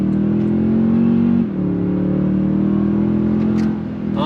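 A 2022 Toyota Tundra Limited pickup accelerates hard, its engine drone climbing in pitch, briefly dropping at a gear shift, then rising again, loud and close inside the cab.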